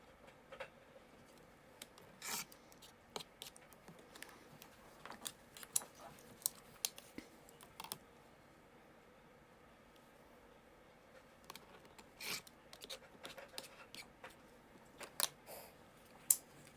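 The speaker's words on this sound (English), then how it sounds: "I'm going to go ahead and trim around all the way around on this." Scissors or a rotary cutter trimming around a fabric quilt block, quiet scattered clicks and short snips in irregular bursts against near silence.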